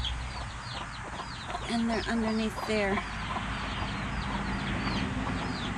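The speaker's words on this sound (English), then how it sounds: "Seems like they do more roosters than hens." Chickens, roosters and hens, cluck in a chicken tractor outdoors: a few clear, close clucks over a steady background murmur, while a person speaks briefly.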